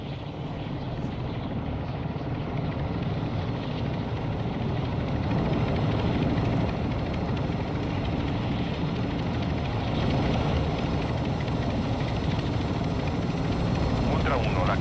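A helicopter flies toward a landing zone in the Call of Duty DMZ video game, its rotor and engine a constant loud thrum throughout while radio voices talk over it.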